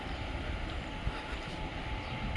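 The Silambu Express rolls along a railway track with a steady, broadband rumble and rattle of wheels and carriages, fairly faint and continuous, with no voices.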